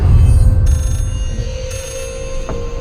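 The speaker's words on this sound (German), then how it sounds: "Jetzt ist nämlich da ein fucking Telefon." A telephone rings in the horror video game Layers of Fear, with bright electronic ring tones over a low rumbling ambience. A sharper tone cuts in near the end, and no one speaks.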